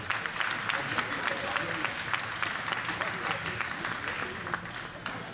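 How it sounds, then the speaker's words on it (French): An audience applauds Professor Amoa Urbain at a ceremony in the royal court of Abengourou, a dense, sustained clapping that stays loud throughout, with voices mixed in. "Je voudrais, chers invités, chers parents, que nous puissions acclamer le professeur Amoa Urbain"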